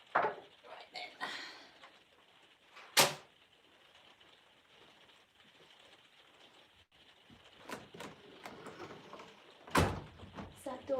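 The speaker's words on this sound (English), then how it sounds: "door closed." A door shuts indoors with a sharp, loud bang, and a second hard knock follows several seconds later over quiet room noise and faint rustling.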